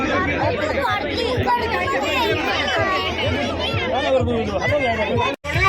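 Dense crowd chatter and babble fills a busy pet carnival crowded with dogs, turkeys and ducks, a steady loud hubbub of overlapping voices that dips briefly near the end.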